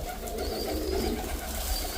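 A young pigeon kept at home coos softly, a low muffled murmur under steady background hum, faint and indistinct throughout.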